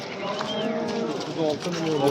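Cattle low and moo repeatedly at close range, overlapping calls amid a busy crowd at a livestock market, with people talking in the background.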